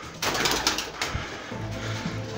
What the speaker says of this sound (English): It's gonna be full of fucking pigeons up here.